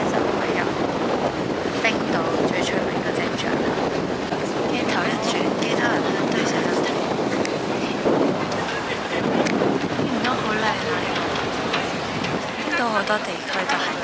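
Strong sea wind roars against the microphone on a boat during a rainy storm off northwest Iceland, a loud constant buffeting rush, while a person talks over it throughout.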